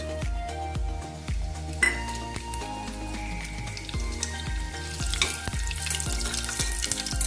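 Tempering spices for tomato biryani crackling and sizzling in hot oil, with intermittent clinks and taps of a utensil against the pan, growing livelier toward the end.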